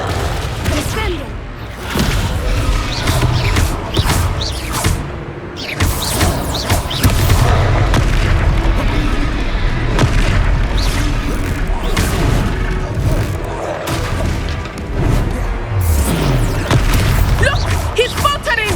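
A Descendo slam spell in the Hogwarts Legacy video game, heard as repeated heavy booming impacts and crashes amid a busy, loud battle soundscape with music and effects throughout.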